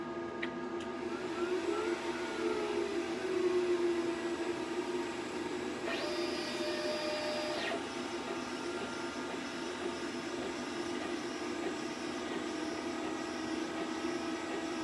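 Glowforge laser cutter running alongside a TerraBloom ventilation fan in a shop, a steady whirring hum with a faint mechanical motion sound and a brief higher tone partway through, continuous at moderate level.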